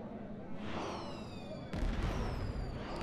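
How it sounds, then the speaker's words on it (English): Fireworks bursting in the space game Star Trek Online, a steady crackling rumble with rising whistles that gives way to a louder bang partway through, set against a continuous ambient background. "Yay, fireworks."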